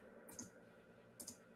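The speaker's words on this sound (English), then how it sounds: "all I'm doing is clicking that plus button" A computer mouse clicks the plus button on a blogging page, two faint crisp clicks spaced about a second apart over a low steady background hiss.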